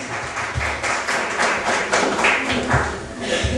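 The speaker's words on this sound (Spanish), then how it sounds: "Por favor, un fuerte aplauso para el doctor Carlos Calderón Puertas." Audience applause for a speaker at a lawyers' association talk on family law and inheritance: a steady, dense patter of many hands clapping in a room, continuous and fairly loud.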